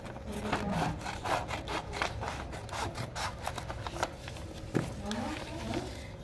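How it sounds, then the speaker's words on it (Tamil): Scissors cutting a full A4 paper sheet in half for a children's craft, a quiet series of rapid crisp snips and rustling, close up. "ஃபுல் ஏ4 ஷீட்டை வந்து ஹாஃபாக கட் பண்ணிக்க போகிறோம்"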